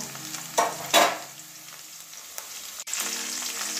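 Potato pieces frying in oil in a pan for a Bengali potato and eggplant dish with lentil dumplings, a steady close sizzle broken by a few louder bursts of crackle as the pieces are stirred.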